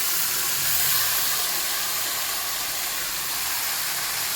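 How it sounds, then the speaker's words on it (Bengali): Taro stolons drop into hot oil in a pan and set off a loud, steady frying hiss that fills the whole stretch without pause, close by and with no voices. "এবার আমি এই যে লতিটা দিয়ে দেবো।"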